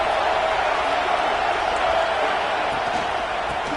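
Ohio State Buckeyes football crowd roaring on a third-down play, a dense, steady wash of stadium noise heard from a distance, sustained and even throughout.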